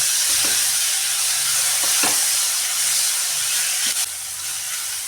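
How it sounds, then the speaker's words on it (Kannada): Tomato and onion fry in a pan for a paneer gravy, giving a constant close sizzling hiss punctuated by a few scraping stirs of the spoon, with no voices. "ಇವಾಗ ನಾನು ಟೊಮೊಟೊ ಹಾಕ್ತಾಯಿದ್ದೀನಿ. ಟೊಮೊಟೊ ಸ್ವಲ್ಪ ಸಾಫ್ಟ್ ಆಗೋವರೆಗೂ ನಾವು ಹೊಡೆಯೋಣ."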